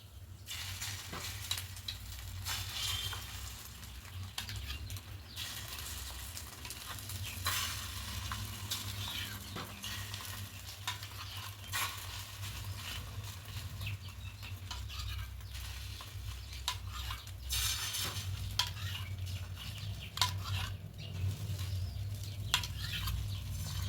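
Bread with egg fries gently in a pan over low heat, producing a quiet, continuous sizzle with light crackling, occasional stirring and faint spatula taps, and no voices.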